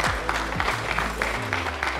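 Audience applause for event sponsors and partners at a live challenge gathering, a steady wash of clapping with music and a low hum running underneath throughout.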